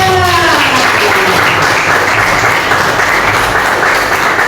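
Loud, dense applause from a crowd, steady clapping filling the whole stretch without pause.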